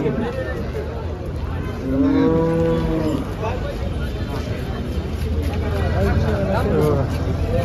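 Cows at a busy cattle market trading HF and Jersey cattle, one drawn-out close moo and fainter lowing among a constant murmur of crowd chatter and vehicle noise.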